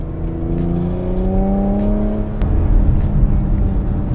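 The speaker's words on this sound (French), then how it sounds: "On a des petites déflagrations, des petites détonations, c'est très sympa" A Porsche Macan S accelerates in sport mode, its engine note climbing in a steady rising whine before sharp exhaust pops and crackles break out, loud and close.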